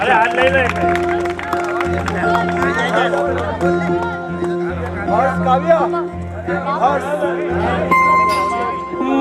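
Crowd at a Jain pilgrimage gathering breaking into applause and cheering, dense claps mixed with loud chatter and a voice over a microphone, steady and close throughout.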